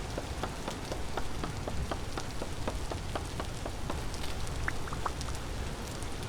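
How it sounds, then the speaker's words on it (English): Steady rain falls in the video game Vintage Story, a dense continuous hiss with scattered sharp droplet ticks throughout, even and moderately loud with no voices. "It is raining at the moment."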